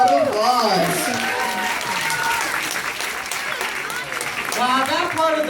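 An audience at a bird show applauds steadily with sustained clapping for several seconds, while a presenter talks over the clapping.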